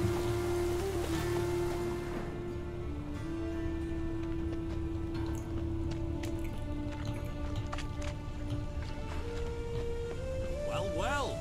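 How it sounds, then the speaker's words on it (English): Continuous rain patters on surfaces with scattered drips, over a steady sustained tone and faint background music, in the video game The Witcher 3: Wild Hunt. "Raining again."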